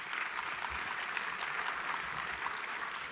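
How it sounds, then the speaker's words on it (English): Audience applause fills a room at a golf course owners' awards luncheon, a steady broadband patter of many hands clapping continuously at moderate volume, with no voices. "Round of applause"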